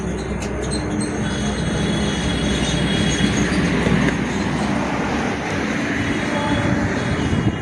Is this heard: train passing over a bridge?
yes